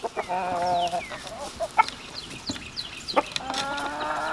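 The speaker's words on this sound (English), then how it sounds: "Oh, chickens, chickens, chickens, chickens." Several chickens cluck and chatter close by, with short clucks and a few higher squawks overlapping against a quiet outdoor background.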